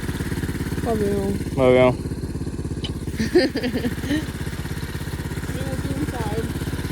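A pit bike engine runs steadily throughout, a continuous close mechanical drone with a brief rise partway, while people talk over it.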